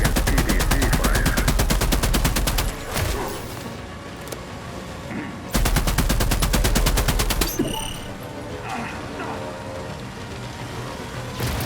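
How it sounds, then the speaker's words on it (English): Rapid, continuous automatic PDC cannon fire in The Expanse: Osiris Reborn sci-fi shooter, roaring loud in two long sustained bursts with a brief lull between, followed by quieter scattered battle noise. "Even their armor won't stand a chance against PDC fire."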